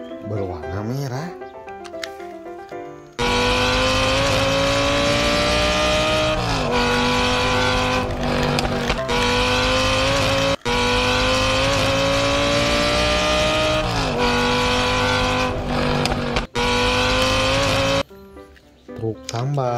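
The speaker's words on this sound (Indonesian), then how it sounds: "Supercar berwarna merah." A red supercar revs hard and races with loud, sustained engine roar and tire squeal, cut by brief breaks, with short quieter passages before and after.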